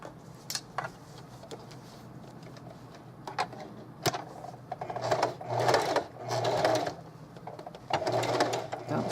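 Domestic sewing machine stitching vintage lace for a snap bag, bursts of needle chatter starting and stopping with brief pauses, close and fairly loud, plus a few sharp clicks of handling.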